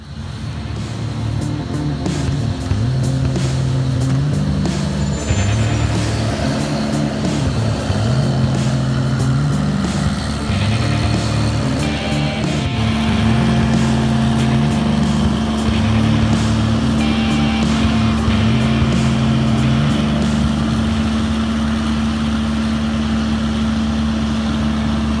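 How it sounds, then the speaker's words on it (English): An almond harvest sweeper driving through an orchard, blowing nuts, a loud steady engine and fan drone with a cycling rising-and-falling tone throughout. "that sweeper is going through and it's blowing all the nuts"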